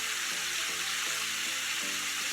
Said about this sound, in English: So you're going to fry these until they're golden brown and completely cooked.